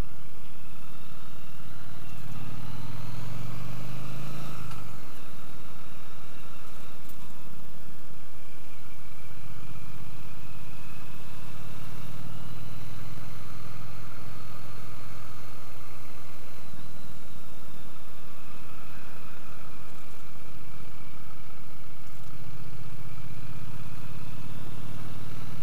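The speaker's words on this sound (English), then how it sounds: "It gets very tractor-like. It sounds very tractor-like." A Triumph T100 motorcycle engine chugs at low revs on back lanes, a deep, rough, tractor-like rumble that stays close and steady throughout.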